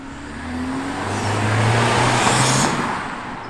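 A car fitted with an aftermarket cold air intake drives past, its engine note swelling as it nears and fading as it moves away, with a low, rising tone through the middle.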